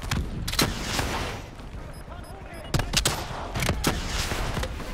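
Gunfire from a Call of Duty: Black Ops 3 campaign battle cracks out in loud, sharp volleys, with bursts early on, a pause, then another cluster of shots near the end over a steady roar of game ambience.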